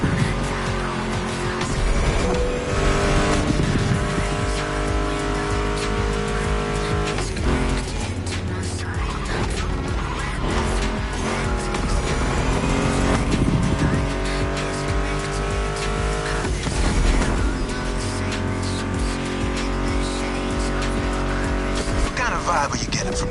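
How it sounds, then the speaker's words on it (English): Powerful muscle car engines, including a Mustang GT, roar and rev continuously at a motor fest, loud and close, with occasional tire squeals cutting through the throaty rumble. "Meshes well with the sound of the engines"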